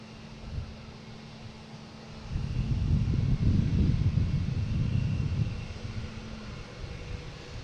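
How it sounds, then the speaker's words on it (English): A JetBlue Airbus A220 taking off from Boston Logan bound for Chicago, its engine roar building from a distance to a broad, sustained rumble and then fading against a wind-blown background. "we have a JetBlue taking off, heading to Chicago, an A220"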